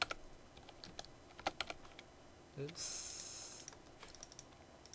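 Computer keyboard typing with scattered key presses, close and fairly quiet, while someone first plays a PC game demo; a short spoken exclamation occurs in the middle.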